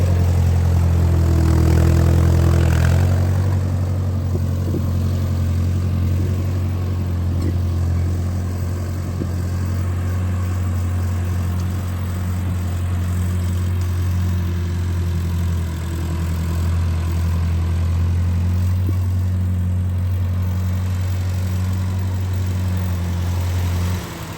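A Ford 8N tractor engine idles steadily up close, a low mellow rumble that holds even for the whole stretch with slight shifts in pitch.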